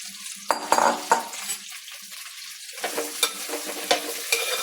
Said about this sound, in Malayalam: വെളിച്ചെണ്ണയൊന്ന് ചൂടായി വരുന്നു. നമുക്കിനി വെണ്ടയ്ക്ക അതിനകത്തോട്ടിടാം.